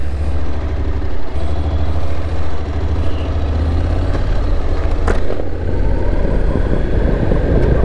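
Motorcycle engine throttled up during a road ride around the Sea of Marmara, a steady loud engine drone with wind rush throughout and a brief surge partway through.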